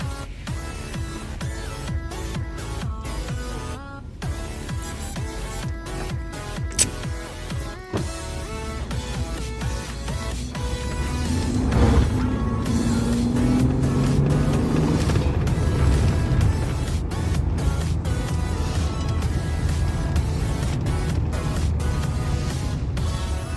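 A Mercedes W140 S600 pulls along in third gear, its engine a steady low drone with road and wind rumble that swells louder midway, heard from inside the car with no talk.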